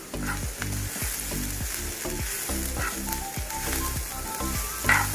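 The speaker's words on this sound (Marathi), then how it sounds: "आता आपल्याला त्याबरोबरच हे सगळे मसाले सुद्धा त्याच्यातच भाजून घ्यायचे" Whole spices dry-roasting together in a pan for an Agri-style stuffed crab curry (muthe kalvan): a steady, close sizzle with stirring, over a rhythmic low pulse that runs throughout.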